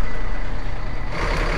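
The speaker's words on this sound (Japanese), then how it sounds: "小豆島のバスだ" A Shodoshima island bus gives off steady reversing beeps over a loud, continuous engine rumble, heard close by amid traffic noise with no talking.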